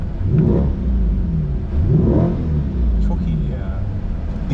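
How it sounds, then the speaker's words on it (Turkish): A Corvette C8 sits on a race track in Las Vegas, its engine revving hard in repeated surges that rise and fall, loud and close, with a deep rumble between bursts. "Bir gaz vereyim mi ya?"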